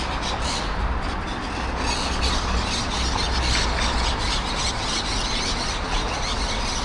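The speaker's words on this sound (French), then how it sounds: "Regarde-moi. Les oiseaux." Birds squawk and squeal continuously through steady broadband city noise in Valencia, Spain, with no one talking.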